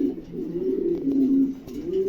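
A pair of adult blue shorting pigeons coos continuously up close, a low rolling warble that swells and dips in waves with no talking.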